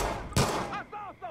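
An AK rifle fires in the Far Cry 5 video game, one sharp, loud shot bursting out briefly, followed by a voice talking over the game sound.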